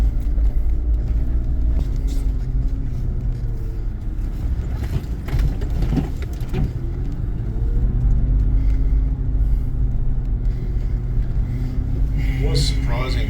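A 4WD coming down a steep track in second gear low range, engine braking with no brakes used: a steady, loud low engine drone with rumbling and occasional mechanical knocks from the rough ground.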